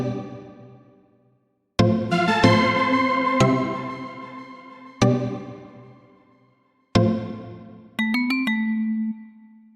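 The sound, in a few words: bell lead melody in FL Studio VST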